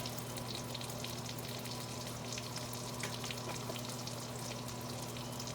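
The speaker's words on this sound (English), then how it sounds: "frying up spam, frying up bacon" Steady, crackling sizzle of Spam and bacon frying in a pan, continuous and close, with a faint low electrical hum underneath and no voices.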